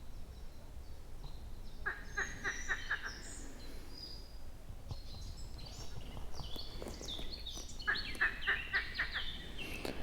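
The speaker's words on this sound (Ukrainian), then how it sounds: "А це спів пташок" In a quiet forest, birds sing in short repeated phrases, with a clear run of rapid notes early on and another near the end, over other faint calls and a low background hum.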